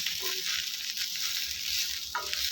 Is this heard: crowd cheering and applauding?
no